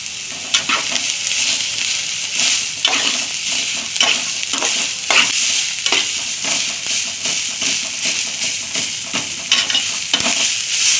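Green chillies, ginger and garlic sizzle loudly in a pan for mutton rassa, a steady close crackle broken by repeated scraping stirs, with no voices.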